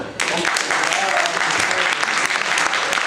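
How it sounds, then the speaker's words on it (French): Loud, dense audience applause at a French-language talk, starting abruptly and holding steady throughout, with many hands clapping close by. "alors on applaudit encore"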